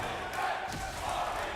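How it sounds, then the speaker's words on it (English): A crowd at a League of Legends esports match, G2 against Origen in the EU LCS, cheers and roars in a dense, continuous wash beneath excited casting. "You can hear the crowd cheer."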